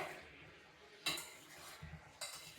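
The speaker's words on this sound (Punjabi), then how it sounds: "ਹੁਣ ਆਪਾਂ ਇਹਨੂੰ ਕਰ ਲੈ ਮਿਕਸ ਚੰਗੀ ਤਰ੍ਹਾਂ ਨੂੰ ਮਿਕਸ ਕਰਕੇ" Mixing food in a pot during home cooking, with two sharp scraping clinks of a metal utensil against the pot over a quiet background.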